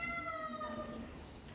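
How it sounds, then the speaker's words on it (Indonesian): A cat meows once with a drawn-out, tonal call that fades gradually, heard faintly at a distance during an evening religious study gathering. "Kucingnya siapa itu?"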